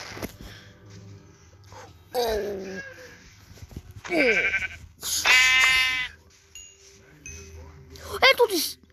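Several Minecraft sheep bleats ring out one after another, some short and some drawn out, separated by quiet gaps with low background hum.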